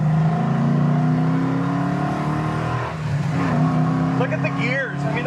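A 1967 Chevrolet Camaro pulls hard in first gear up to 5,500 RPM, a loud, rising engine roar that eases briefly before carrying on, with voices talking over the sound inside the car.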